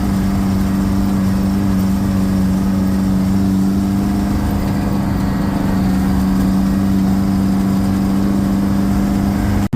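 A Detroit Diesel engine runs loudly and steadily up close, a continuous heavy droning idle with a deep hum and slight rises in revs, no talking.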